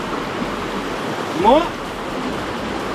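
A Romanian river flows with a steady, close rushing wash that runs throughout, while someone speaks briefly in the middle.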